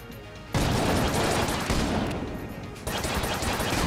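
Rapid gunfire from a newly picked-up gun in the game Enter the Gungeon, a loud dense stream of shots that surges after a brief quieter start and continues without pause.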